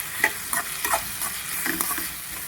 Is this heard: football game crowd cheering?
no